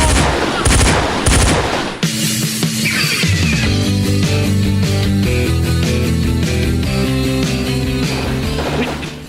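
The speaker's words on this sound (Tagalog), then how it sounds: "Men, keep on firing!" Gunfire sound effect in a radio drama battle scene, bursts of rapid shots and heavy blasts layered under dramatic music, loud and continuous.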